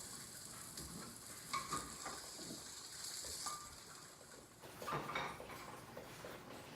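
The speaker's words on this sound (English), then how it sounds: "I was just cooking a little piece of sausage." A small piece of sausage frying in a pan on a home kitchen stove, a steady soft sizzle with light clinks of a utensil, heard alone.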